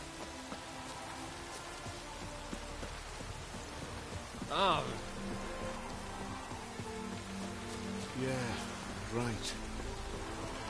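Steady rain falls throughout a scene in the video game The Witcher 3: Wild Hunt, a soft continuous hiss, while a few short spoken lines rise above it.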